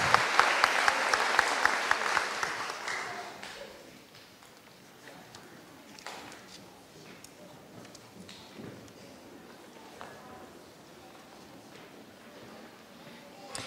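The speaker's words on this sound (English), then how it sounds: "Please give them one more round of applause as they are having this seat." Applause breaks out at a sixth-grade graduation ceremony, loud and crowded for the first few seconds, then thins out and fades into a quiet room with scattered faint shuffles and small knocks.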